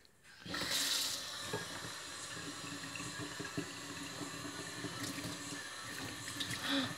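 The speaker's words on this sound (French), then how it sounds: "Et là, bien sûr, je mets l'eau chaude." Hot water pours from a tap into a sink, starting abruptly as a loud, close gush and then running steadily, with no talking.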